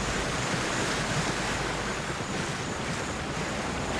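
Surf washes continuously in the Gears 5 video game, a steady broad hiss of waves and wind blending into an even ocean ambience with no talking.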